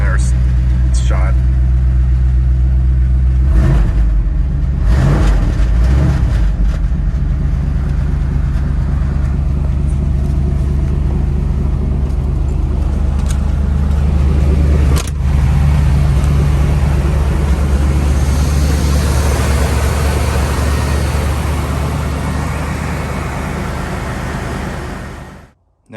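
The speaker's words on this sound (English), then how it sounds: "New exhaust. You can hear it rattling." Cold-started car engine with a worn new exhaust that rattles, idling loudly and steadily close by with a brief rev early on, while people talk over it.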